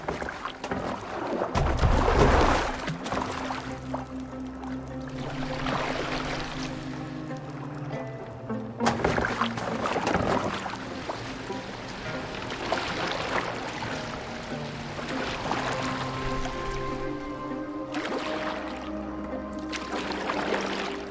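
A boat glides across water in the video game Assassin's Creed Valhalla, with soft splashing and wash under a low wind-like rush, plus a few louder surges and swells; faint music tones run beneath it.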